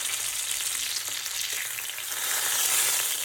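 Fish fillet frying in a pan, a dense, steady sizzle and crackle of hot oil up close, swelling slightly toward the end, with no voices.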